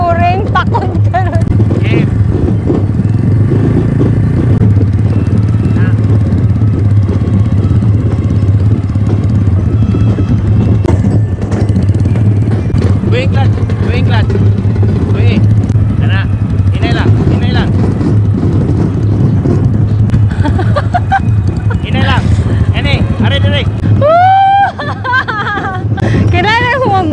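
A manual car's engine idles and hums steadily through a beginner's driving lesson, a low drone running the whole time beneath near-constant conversation and laughter inside the car.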